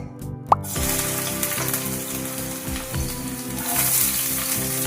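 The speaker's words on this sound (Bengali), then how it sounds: "তেল আমার গরম হয়ে গিয়েছে এবার আমি তেলেতে দিয়ে নেব কুচনো পেঁয়াজ" Chopped onions hit hot mustard oil for ghugni with a sharp plop, then a steady close sizzle with low bubbling continues to the end, alone with no talk.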